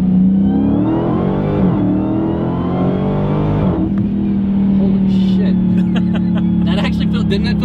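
A Dodge Demon's engine revs hard during a manual-mode downshift, a loud, steady mechanical roar whose pitch climbs and falls with gear changes while people talk inside the car.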